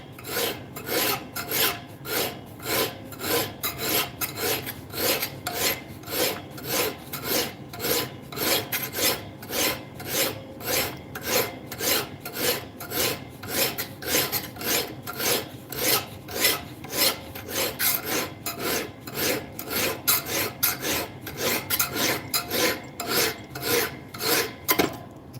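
Hand file rasping steadily along a knife bevel, with dozens of rhythmic back-and-forth strokes, close and clear, no talking.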